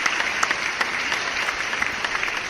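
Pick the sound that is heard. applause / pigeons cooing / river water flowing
applause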